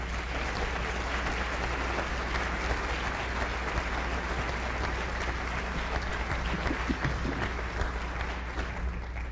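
Sustained applause from a large audience at an opera conference after a speaker's introduction, steady and even clapping that fills the room with no talking.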